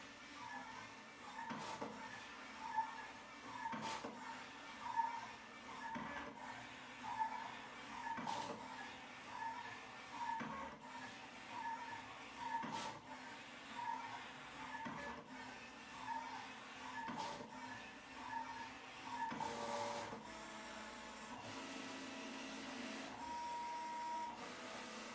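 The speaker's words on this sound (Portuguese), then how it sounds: "eu vou cortar as tags nessa máquina" An electronic cutting machine cuts paper tags, with a steady mechanical whir and repeated soft clicks and carriage knocks at regular intervals, close and fairly quiet, and no talking.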